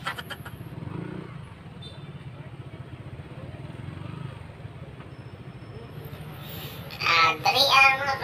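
A motorcycle rides through city streets in Cebu City, Philippines, on a light-traffic holiday, its engine a steady low drone with road rumble throughout and a burst of louder noise near the end.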